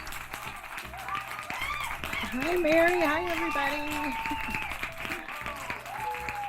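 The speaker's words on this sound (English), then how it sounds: "you can't hold that applause down" Studio audience applauding as a guest crafter is welcomed onto a craft show, clapping running throughout beneath a host and guest exchanging greetings.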